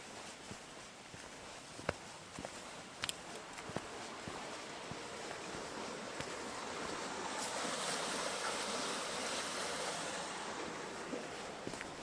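Water rushes along an acequia, an irrigation channel near Monachil beside a river valley, forming a steady broad outdoor wash with wind buffeting the microphone and a few sharp knocks and crackles near the start.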